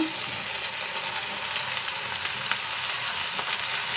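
Little gourd (tondekai) frying in a pan for a dry palya, a dense, continuous loud sizzle and crackle held steady throughout, close up with no talking.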